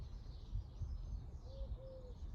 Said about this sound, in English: Maybe hearing a bird sing